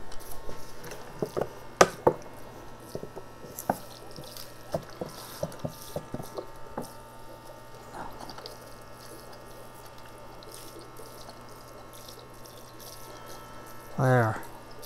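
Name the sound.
water poured onto a potted tree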